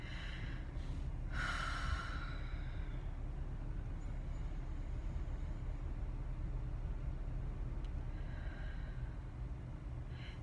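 Two deep breaths, each a clear, close inhale-exhale against a steady low background hum, the first near the start and the second near the end.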